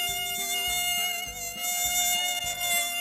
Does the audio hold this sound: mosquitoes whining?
yes